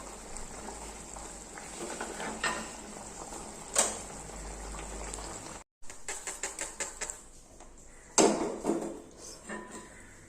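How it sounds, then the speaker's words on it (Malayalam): Mustard seeds spluttering in hot oil as a tempering for fried tomato rasam, a quiet crackle of irregular sharp pops and clicks, with a brief silent break and a denser burst of popping afterward. "ഇതിനൊന്ന് കടുവും കൂടെ വറുത്തിടാം"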